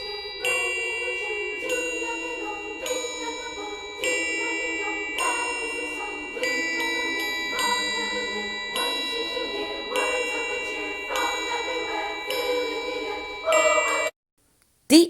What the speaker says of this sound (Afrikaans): Nou hierdie instrument is 'n driehoekie.